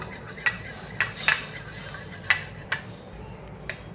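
An egg hair pack mixture beaten in a bowl, a utensil clinking against the bowl in several sharp, irregular taps over a quiet background.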